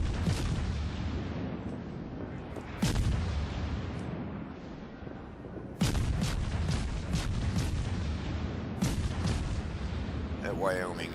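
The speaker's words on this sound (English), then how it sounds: "We are simply spinning around. That's all we're doing, is spinning. And letting our guns fire as they come on." Heavy guns of a British battleship fire in a naval combat game as the ship turns, several loud booming salvos at irregular intervals over a constant rumble, with talk running throughout.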